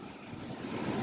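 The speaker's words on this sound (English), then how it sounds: "These waves." Rough seas on a Norfolk UK beach send waves surging and crashing in a steady broadband roar, with buffeting wind noise on the microphone.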